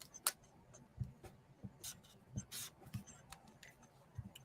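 Felt-tip marker scratching across testing paper in short, irregular strokes and taps, close and quiet, with a few brighter squeaks from the dry tip.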